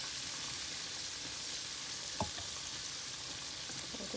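Pork chops frying in a pan make a steady, fairly quiet sizzle with a soft bubbling hiss, broken by a brief clink or scrape near the middle, no talking.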